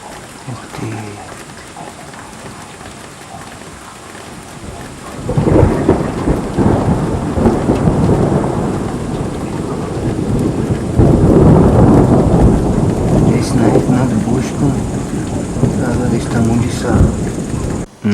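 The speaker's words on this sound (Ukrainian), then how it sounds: "Гроза." Thunderstorm with rolling thunder and steady rain, a quiet start giving way to loud, sustained rumbling and downpour that swell again midway and persist to the end.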